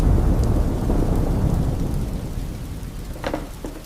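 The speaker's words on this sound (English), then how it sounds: "She walked into the rain." Steady heavy rain pours with a deep roll of thunder underneath, fading slightly toward the end, with a few louder splashes near the close.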